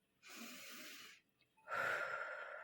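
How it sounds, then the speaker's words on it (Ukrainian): One person takes a slow, deep breath in a quiet room: a long airy breath through the mouth, a brief pause, then a stronger, louder rush of air that fades off. "Я роблю глибокий вдих"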